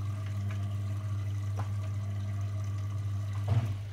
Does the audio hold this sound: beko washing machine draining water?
yes